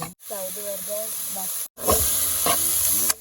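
Food sautés with garlic in a pan for a pasta dish, making a steady, loud sizzling hiss throughout, with a voice talking over it and a few stirring scrapes.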